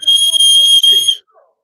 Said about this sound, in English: Whistle there, Steve, lollipops.